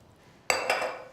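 Lamb stock is poured from a container over potatoes in a dish while cooking a Sunday lunch: a sudden clink at the start of a brief, close, splashing pour.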